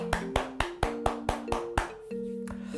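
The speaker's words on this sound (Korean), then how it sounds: "수고하신 모든 분들께 격려와 응원의 박수 하도록 하겠습니다." Several crisp, evenly spaced claps ring out with tonal chimes between them at the close of a church's online Bible course. The beat is steady and clear, with no talking.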